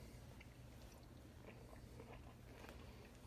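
Someone chews tender crockpot pot roast carrots with a slight crunch: soft, wet bites and mastication sounds, close and quiet, with no talking.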